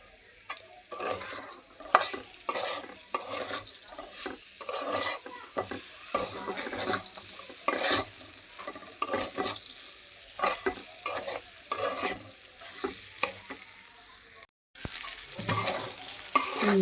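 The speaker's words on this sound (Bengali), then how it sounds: "চালটা এখন মাংসের সাথে আমি ভাজা নিব।" Rice being fried with chicken meat in a pan, with steady sizzling and frequent stirring scrapes throughout, close and continuous, plus occasional clinks of a utensil against the pan.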